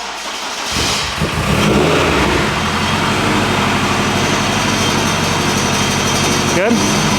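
A Honda Civic Type R with a parasitic battery drain cranks and fires, then revs and runs loud and steady close by, with a rattling tone and voices talking over the engine.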